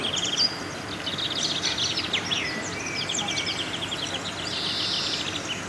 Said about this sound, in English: Those birds are noisy, aren't they?